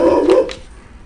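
A charcoal Labrador barks once, loud and close, in a short sharp burst that quickly fades into a quiet room.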